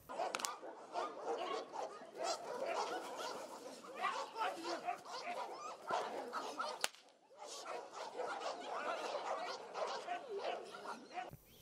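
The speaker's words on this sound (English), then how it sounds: "During the same event, police demonstrated how dogs are used in investigations." A police dog barking and yipping during a demonstration of how dogs are used in investigations, with repeated excited barks and whimpers, close and lively, while people talk throughout.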